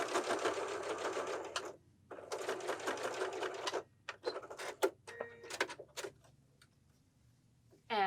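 A sewing machine stitches a piped pillow in two long, steady whirring runs of rapid needle ticks, then breaks into short stop-start bursts and clicks before a pause. The machine is close and heard alone.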